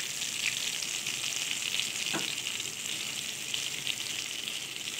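Nando's-style peri peri bites fry in a pan with a steady, close hiss and sizzle, broken once by a brief clink or stir; no voices.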